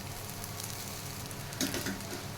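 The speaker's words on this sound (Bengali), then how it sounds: "চাউমিনটা একটু হালকা হালকা করে ভেজে নিতে হবে" Chowmein with fried potato sizzling in a wok, a soft steady hiss with a few brief crackles near the end, faint and close.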